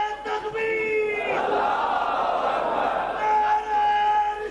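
Crowd at a religious gathering shouting the reply to a Nara-e-Takbeer slogan call, a loud massed roar of many voices swelling and holding for a few seconds after a single voice leads.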